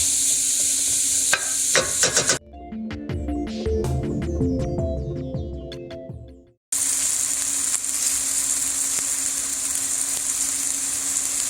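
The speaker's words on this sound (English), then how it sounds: "we went and put in our ground pork and ground beef, and we're going to cook it till it's nice and brown" Ground pork and ground beef brown in a pan for Bolognese sauce, a continuous close sizzle and hiss interrupted midway by a few seconds of a different tonal passage before the frying resumes.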